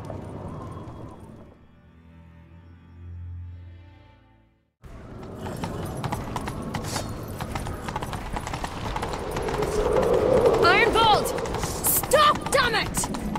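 Horse hooves clip-clop at a gallop in a Witcher 3 chase scene. The rhythmic pounding starts after a quiet stretch and grows louder, with game music, voices and other effects mixed in.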